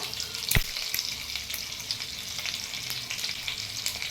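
Whole garam masala spices, slivered ginger and a bay leaf sizzle in hot ghee for a pulao, a steady close crackle with a sharp utensil knock near the start and light stirring throughout.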